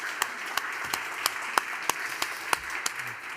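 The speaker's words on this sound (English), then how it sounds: "So please, a hand of applause to the panel." Conference audience applauding a panel at the Copernicus C3S General Assembly: sparse, evenly spaced individual claps ring out over a soft background murmur of clapping for about three seconds.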